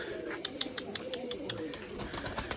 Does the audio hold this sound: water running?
no